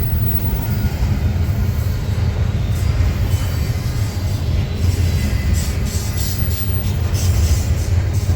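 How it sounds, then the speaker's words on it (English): A BNSF freight train of well cars keeps rolling past nearby in a continuous heavy rumble, with occasional wheel squeal and faint clatter over the rails. "Some BNSF 53 well cars"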